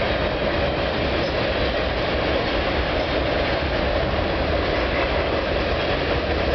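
A long CN freight train of boxcars, some Union Pacific, rolls past a street crossing in Milton, Ontario, a steady close rumble with a constant roar of wheels on rail throughout and no pause.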